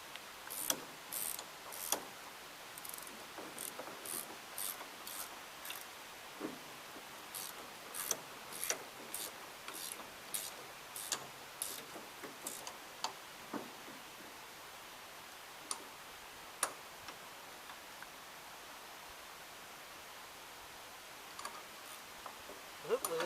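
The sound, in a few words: ratchet wrench clicking while tightening bolts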